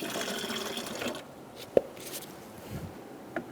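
Coolant poured into the overflow tank of a 2010-2014 Subaru Outback, a gurgling liquid fill that fades after about a second, then a sharp plastic tap and a few soft drips in near quiet.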